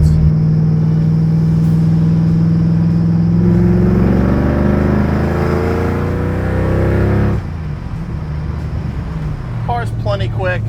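A Fox Body Mustang Cobra engine fitted with a cam and a blower pulls hard, its tone climbing in pitch as it accelerates and then settling back, with someone talking over it.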